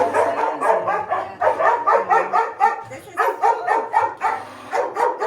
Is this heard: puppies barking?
yes